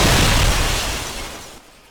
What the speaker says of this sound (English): And you have just heard that explosion.